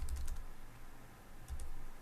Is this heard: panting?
no